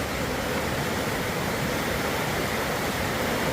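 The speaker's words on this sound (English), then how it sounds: "Some raging water. Just waterfall after waterfall." A raging stream tumbles over a series of small waterfalls after hard rain, a loud, unbroken rushing roar close by with no other sounds.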